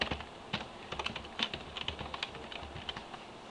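Rapid keyboard typing close by as an email address is entered into a website's new-user form, a continuous patter of light plastic key clicks with small accents, no speech.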